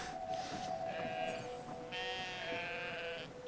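A sheep bleats in the video game Brothers: A Tale of Two Sons, two drawn-out wavering calls standing alone over a low, quiet ambient hum.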